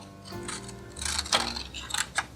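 Scissors snip through a section of paper for making paper beads, a few close, crisp cuts and rustles that grow busier toward the end.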